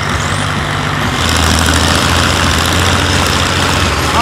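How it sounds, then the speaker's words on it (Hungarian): Two tractors sit lined up at a tractor pulling contest, their heavy diesel engines idling loudly and steadily in a close, constant low rumble with no talk over it. "Na, felállt a két traktor!"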